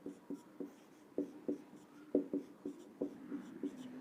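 A marker or chalk taps and scratches across a board during a class 6 maths lesson on factors and multiples, producing short, evenly spaced strokes in a steady rhythm, close and fairly quiet.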